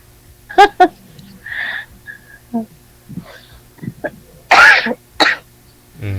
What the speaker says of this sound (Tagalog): Dami mo ng ubo